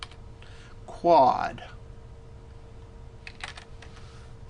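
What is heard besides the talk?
typing on a computer keyboard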